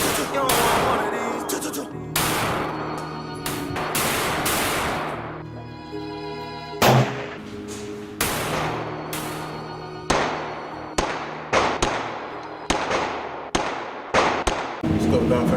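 Shadow Systems XR920 Elite pistol fired repeatedly, with sharp loud shots in irregular bursts and some quick evenly spaced strings, each ringing out briefly, close to the listener.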